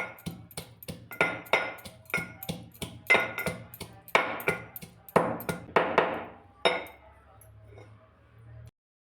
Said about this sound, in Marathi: उकळामध्ये थोडासा लसूण आणि आलं ठेचून घ्यायचं आहे